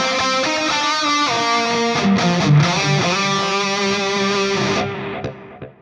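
Electric guitar played through a Fractal FM3 with the Stereo Mind Guide effect: ringing, distorted sustained notes with a few picked changes, loud and alone, fading out at the end.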